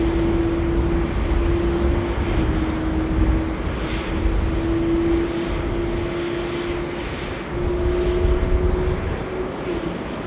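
A Malaysia Airlines jet departing Sydney Airport, its engines a loud, steady broadband roar with a sustained low whine that holds for the whole stretch.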